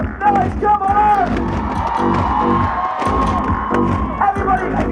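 Large outdoor crowd, including children, cheering, whooping and shouting at an event welcoming the Olympic Flame in Aberystwyth, a loud, continuous roar of voices with rising yells throughout.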